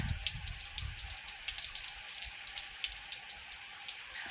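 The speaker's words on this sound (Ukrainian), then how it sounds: "а в нас дах то залізний і воно чути буває. Шляпає дощик." Rain patters steadily on a metal roof, a dense continuous spatter of small hits with occasional louder drops, no voices.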